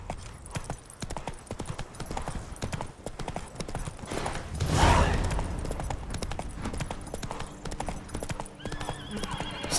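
Roach the horse galloping in The Witcher 3, a rapid run of close hoofbeats with a neigh midway, over faint game ambience.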